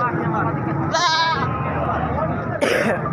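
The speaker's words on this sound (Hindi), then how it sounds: "ये जनाब पंजवें नंबर पे आ गया बकरा जनाब" A goat at a livestock market gives two short, wavering bleats close by, heard amid continuous crowd chatter and background noise.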